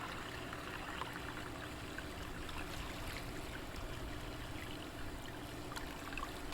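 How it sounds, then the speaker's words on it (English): Dirty water poured off from a bucket while refining gold from BGA RAM chips, a faint continuous trickling and splashing stream, steady and quiet, with no voices. "We're going to pour off the dirty water."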